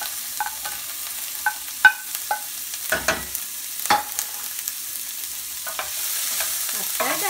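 Onion and ginger fry in a pan while a utensil stirs them, giving scattered scraping clicks and knocks over a faint, continuous sizzle.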